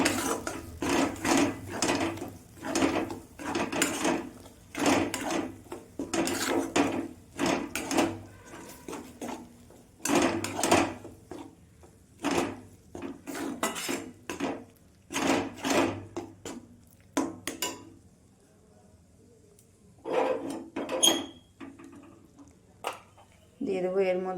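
A utensil scrapes and knocks against a pan as a stiff pea filling is stirred, in uneven clusters of wooden rubbing and clattering with brief pauses, while a person speaks throughout.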